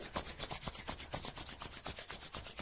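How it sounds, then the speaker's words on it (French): Two palms rubbing together briskly and vigorously to build warmth, a steady rapid back-and-forth swish repeating about every fifth of a second, close and alone. "on frotte bien comme si on voulait que le feu sorte de nos mains et les réchauffer"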